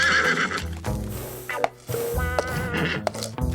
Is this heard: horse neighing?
yes